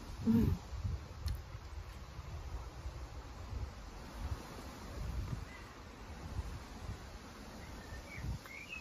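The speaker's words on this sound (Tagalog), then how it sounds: "Nadidinig niyo ba yung hangin?" Wind blows continuously outdoors, a soft rushing roar with occasional low buffeting and faint insect chirps far off.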